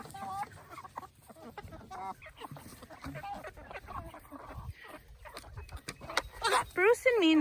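Farm chickens cluck and squawk in a busy flock, close and repeated, while a person talks to them over the noise.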